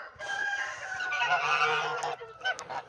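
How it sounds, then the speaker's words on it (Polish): Domestic geese give a burst of loud, nasal honks close by, a single continuous stretch of overlapping calls that trails off into a couple of short sharper notes. "Tu są moje gęsi."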